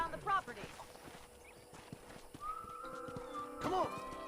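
Horse hooves clip-clop in the Red Dead Redemption video game, a few soft hoofbeats at a ranch with a horse whinny near the end, quiet and mixed with brief game dialogue.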